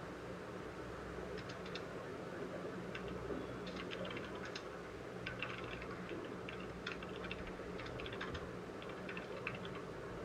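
Faint, rapid clicking of a computer keyboard as code is typed, coming in irregular bursts over a steady background hum with no talk.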